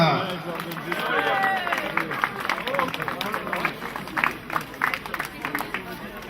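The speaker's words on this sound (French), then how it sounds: "Merci à toi, vous pouvez les applaudir." Applause for the top five finishers at a 10 km road race awards ceremony, a crowd clapping steadily at moderate distance with scattered claps and some background chatter.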